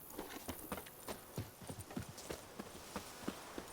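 Rapid hoofbeats clip-clop in an even, quick rhythm, a horse galloping at moderate distance with no talking, in the video game The Witcher 3: Blood and Wine.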